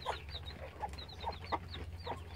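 Chickens cluck and squabble at morning feeding time, giving a busy stream of short clucks and higher squeaks at low volume over a steady low rumble.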